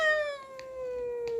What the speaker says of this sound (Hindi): बिल्ली मियाऊ मियाऊ